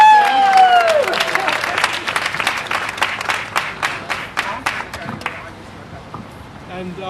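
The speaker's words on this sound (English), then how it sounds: "Let's give her a round of applause." An audience at a Jordanian flag-raising ceremony in Yonkers claps in a brisk burst of applause that thins out and fades after a few seconds, with a voice briefly audible at the start.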